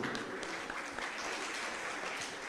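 Audience at a Jain religious gathering applauding to welcome arriving guests, a dense, steady wash of clapping that fills the whole stretch without a break.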